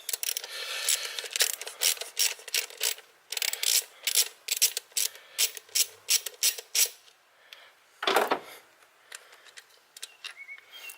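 A ratchet backs a bolt out while a MAP sensor is installed on a Chevrolet Cobalt SS/TC, with rapid close clicking in repeated short strokes and a brief scrape near the end.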